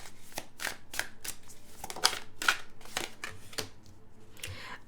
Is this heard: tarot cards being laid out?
yes